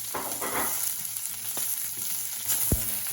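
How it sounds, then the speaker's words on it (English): Minced scallion bottoms sauté in a hot pan with a steady, close sizzle, broken by a few sharp scrapes and stirring clatters as the pan contents get flipped. "make sure that everything gets sauteed properly"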